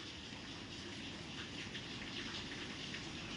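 Steady summer rain pours over Okhamandal, with rainwater gushing from pipes and pooling on a flooded road; a dense, continuous wash of hiss and splashing holds even throughout, with no voices.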